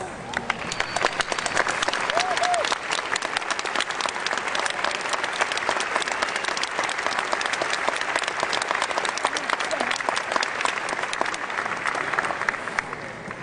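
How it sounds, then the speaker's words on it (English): A large commencement audience applauds continuously for the whole stretch, dense and steady clapping that fills the hall at an even, loud level without any break. "So please rise and join me in giving all of them a round of applause"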